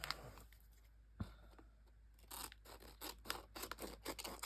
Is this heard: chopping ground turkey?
no